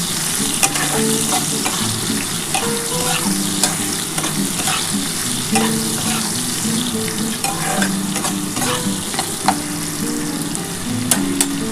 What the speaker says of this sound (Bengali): একটু পেঁয়াজটা একটুখানি ভাজা হয়ে গেলে, খুব বেশি ভাজবো না, একটু হালকা করে ভেজে